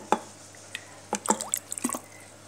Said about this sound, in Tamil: மீதி நம்ம தண்ணி ஊற்றிக்கணும்